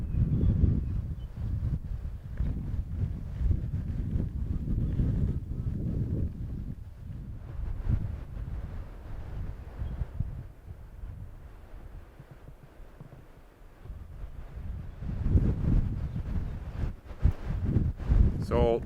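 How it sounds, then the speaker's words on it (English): Strong gusts buffet the microphone at a campsite in tropical bush in Hawaii, a loud low rumble that surges and eases, heaviest at the start and again near the end, with someone talking over it. "So this is the windiest day since I've been here, and this is annoying."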